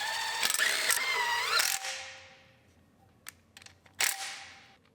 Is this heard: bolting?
yes